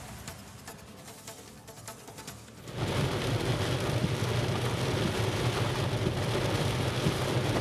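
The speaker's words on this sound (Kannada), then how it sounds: "ಹೆಬ್ಬಾಳ, ಕೋಗಿಲು ಕ್ರಾಸ್ ಆ ಭಾಗದಲ್ಲಿ, ಯಲಹಂಕ ಭಾಗದಲ್ಲಿ ಮಳೆ ಜೋರಾಗಿ ಬಂದಿದೆ" Heavy first-season rain pours down in Bangalore around Hebbal, Kogilu Cross and Yelahanka, starting as a thin patter and then swelling abruptly into a loud, steady roaring downpour.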